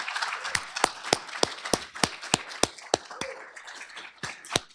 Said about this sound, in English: would you mind standing so we can give you a warm round of applause?